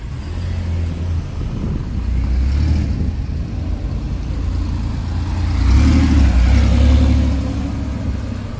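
A Porsche 911 rumbles past on the road at a classic car rally, its engine note swelling loud and close twice, with a steady low drone between the passes.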